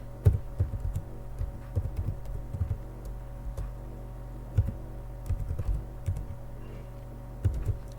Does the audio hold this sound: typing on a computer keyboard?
yes